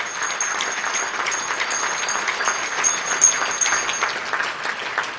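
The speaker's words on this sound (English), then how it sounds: "How about a big round of applause for the Kay and Hudak family?" Listeners give a round of applause for the Kay and Hudak family at a community gathering, a loud, continuous patter of clapping that swells slightly near the middle before easing.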